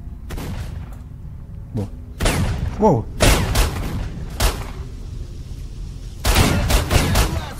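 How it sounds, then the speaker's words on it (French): Gunfire in STALKER: Shadow of Chernobyl: scattered sharp shots and short bursts ring out at irregular intervals, some close and loud, with someone talking between them. "ça canarde déjà"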